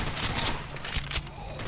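Gunfire in the video game Left 4 Dead 2 on Realism/Expert difficulty, a quick burst of several sharp shots close together, fairly quiet, with a faint voice in the background.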